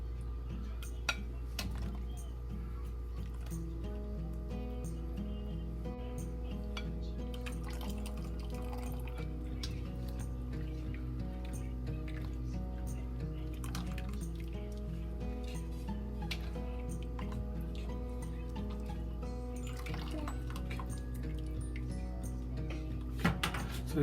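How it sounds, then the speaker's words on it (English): Cooked Chinese cabbage is lifted out of boiling water and put into a pot for a Sichuan-style boiled pork dish. Utensils clink and water splashes over a steady kitchen hum, with no talking. "we get the Chinese cabbage out of the water"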